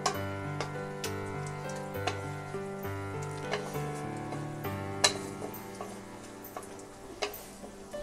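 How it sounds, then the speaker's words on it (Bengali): Cashews and raisins fry in hot ghee with steady sizzling and scattered sharp pops and ticks, a close continuous crackle over a low hum, with no speech. "ঘিটা গরম হয়ে গেছে, এই সময় আমি কাজু কিশমিশটা দিচ্ছি এবং খুব ভালোভাবে এগুলোকে ভেজে নিতে হবে"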